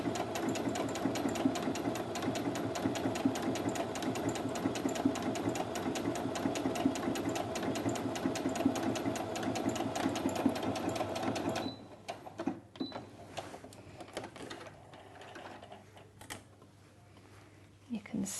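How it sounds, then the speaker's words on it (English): A Brother A16 sewing machine driving its needle through fabric in a fast, even, close-up rattle for about twelve seconds, then stopping, leaving soft handling noises and quiet. "it's a good solid machine, which means that the needle penetrates the fabric really well"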